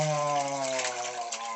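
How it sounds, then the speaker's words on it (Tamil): Mutton marinade water poured into a cooking pot for a traditional mutton curry, a steady continuous gush and fill of liquid heard close and fairly loud for under two seconds, with a faint tonal hum beneath. "மட்டன் அந்த தண்ணி ஊற்றி கலக்கி வச்சுருந்தோம் இல்லையா, அதை எடுத்து அப்படியே அதில் ஊற்றணும்."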